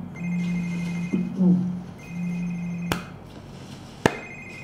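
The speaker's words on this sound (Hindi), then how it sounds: "किसका फोन बज रहा है?" A telephone rings in a home during a television drama scene, a repeating electronic ringtone in steady bursts at moderate distance, broken by a couple of sharp knocks, with no talk.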